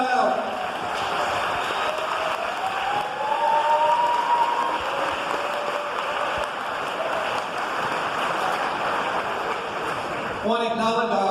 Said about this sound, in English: give your parents and friends and relatives a very big applause